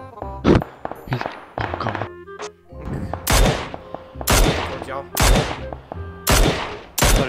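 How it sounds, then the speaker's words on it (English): Gunfire in the video game PUBG, loud bursts of rapid automatic shots in repeated volleys with sharp single cracks between them, close and dominant. "I'm shooting him."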